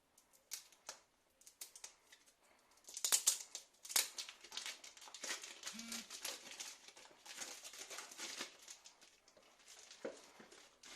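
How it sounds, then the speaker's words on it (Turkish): Cellophane wrap being peeled and crinkled off the box of a ToolkitRC M6D 500W 15A dual-channel smart charger, with close, irregular rustling and crackling bursts that continue for several seconds, plus a few sharper tearing snaps. "Jelatini açıyorum."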